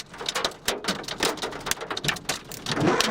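Steady heavy rain pours down during a storm chase near Bradshaw, Nebraska, in June 2011, a dense, continuous hiss of drops hammering a surface close by, with no voices.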